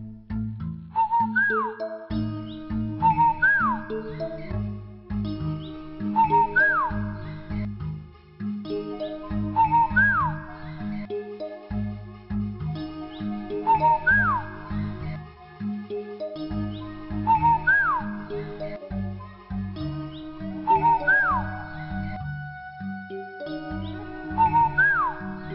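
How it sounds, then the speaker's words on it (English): A cartoon nightingale sings in a fairy-tale scene, giving repeated whistled phrases in a steady rhythm over a full musical backing, clear and moderately loud throughout. "The emperor was happy to hear the nightingale's song"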